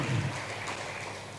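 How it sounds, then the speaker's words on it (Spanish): Steady clapping from a congregation during a church service, a dense, even wash of hands that stays at a moderate level for the whole short stretch. "Démosle un aplauso al Señor, hermano."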